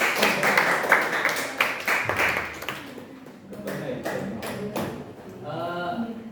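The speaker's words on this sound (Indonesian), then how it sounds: "Semangat dan tepuk tangan untuk kelompok OS" Scattered clapping from an audience rewarding a student presentation group in a classroom, sharp claps at first thinning into sparse taps, with talk mixed in and a voice near the end.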